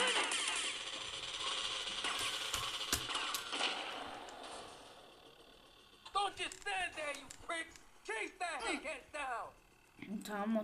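A synthetic vehicle engine in GTA Vice City drones with scattered clicks and bangs, then fades lower as a voice starts talking over it in bursts.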